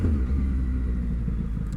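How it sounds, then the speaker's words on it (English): A deep, rumbling vehicle exhaust drones at moderate volume, a steady low growl with slight pulsing and no voices. "I love this exhaust so much"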